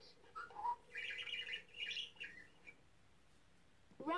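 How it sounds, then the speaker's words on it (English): Parakeet chirps from a toy animal sound book: a run of bright, quick tweets and trills over about two seconds, then a short pause and a brief sound at the end, fairly faint. "parakeet"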